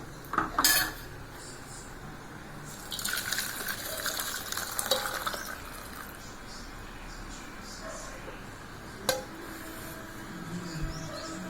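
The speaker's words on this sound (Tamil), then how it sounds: "வேறு பாத்திரத்தில் மாற்றிடலாம்." Horse gram rasam being poured from a cooking pot into another vessel, with close metallic clanks and scrapes of pots and a ladle, a loud clatter near the start and another sharp knock later, over quiet background.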